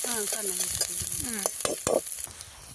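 Chopped onion, fresh ginger and garlic hit hot oil at a street-food stall cooking Gobi Manchurian, sizzling loudly and steadily with scraping stirs and clanks of a ladle against the pan, while a voice speaks briefly over it.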